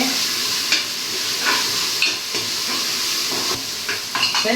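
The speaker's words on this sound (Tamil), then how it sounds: "மண் பாத்திரம் எப்பவுமே ஸ்லோவாக ஏறுது" Steady loud sizzling and hissing, with occasional scraping clicks of stirring, as onions fry in a clay pot.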